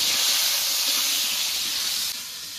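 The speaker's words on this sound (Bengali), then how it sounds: "এবার নেড়ে চেড়ে পটলগুলোকে ভালো করে ভেজে নেব।" Pointed gourd (potol) frying in oil while being stirred and turned, a loud continuous close hiss and sizzle that holds steady and then drops slightly in level near the end, with no talking.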